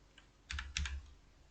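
Computer keyboard keys pressed while working in SketchUp: a faint tap, then two close pairs of quick clicks, alone with no talk.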